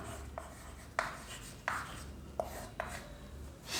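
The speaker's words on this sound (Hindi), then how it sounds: "तो आइए लिखते हैं" Chalk writing on a classroom board during a chemistry lecture, a handful of sharp taps and scratchy strokes spaced irregularly over a quiet room, close and fairly faint, with no talking.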